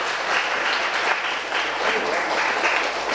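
A religious discourse audience on Thiruvasagam breaks into steady, dense applause that carries on evenly throughout, with no voices heard over it.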